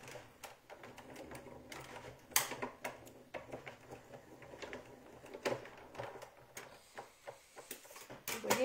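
A Big Shot die-cutting machine cuts paper in a quiet craft setting, with faint, irregular mechanical clicks and taps scattered throughout and a few sharper knocks.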